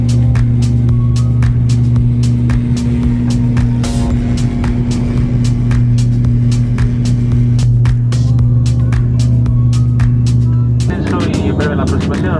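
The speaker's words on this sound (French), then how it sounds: "Ça y est, c'est la piste de décollage." Airplane on the runway for takeoff, heard from inside the cabin as a steady loud engine drone with strong tonal hum and rattling, the pitch shifting near the end as power builds.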